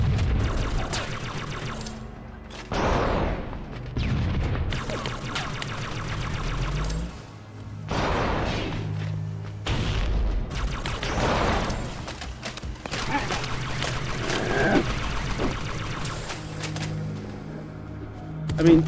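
Gunfire bursts and heavy grenade blasts from Halo CE combat, loud and dense with repeated booms and rapid shots, alongside a low droning game score and occasional speech.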